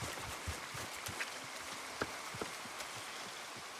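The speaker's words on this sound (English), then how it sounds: "Come on, it's raining." Rain falling in the video game Red Dead Redemption 2, a faint, steady patter with scattered soft drop taps and light thuds; no talking.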